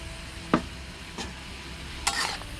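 Shrimp stir-fried with garlic and chili in a hot pan, a soft steady sizzle punctuated by a few brief scrapes of the spatula, close and without talk.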